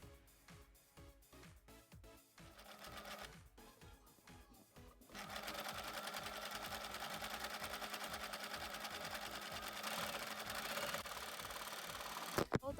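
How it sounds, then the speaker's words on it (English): A sewing machine stitches a hem on fabric for a beach cover-up, starting in short stop-start bursts, then running in a steady, loud, fast continuous whir for several seconds before stopping abruptly. "Now create a hem by sewing along as shown."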